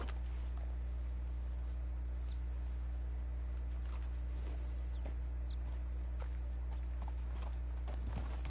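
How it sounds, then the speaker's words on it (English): In Red Dead Redemption II, a horse walks along and its hooves make soft, sparse clip-clops. They are faint against a steady, droning game background with no speech. "O cavalo tá levando o cara morto pra casa."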